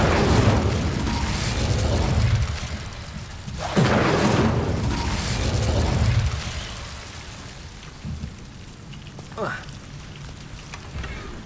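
Incendio fire spell cast in Hogwarts Legacy, a loud whooshing burst with a rumbling roar that swells, fades, then surges again before trailing off into quieter effects.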